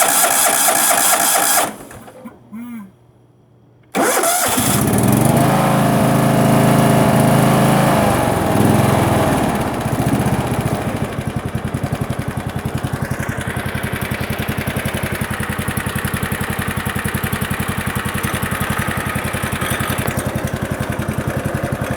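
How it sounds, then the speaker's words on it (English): A John Deere LX172 lawn tractor engine starts after a brief pause and runs at a steady loud idle, with a continuous mechanical rattle from a loose idler pulley underneath layered over the motor drone. "that rattling sound, that's just one of the idler pulleys underneath"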